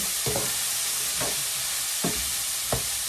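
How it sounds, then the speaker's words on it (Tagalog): Frozen vegetables being stir fried in a pan for shepherd's pie, with four brief stirring scrapes spaced about a second apart over a steady low sizzle. "So that I can stir fry this vegetable."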